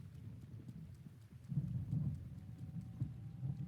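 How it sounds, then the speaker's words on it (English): A storm in the video game The Legend of Zelda: Breath of the Wild brings a low, rumbling wash of rain and distant thunder with soft rhythmic thuds, faint and steady throughout. "One violent storm, isn't it?"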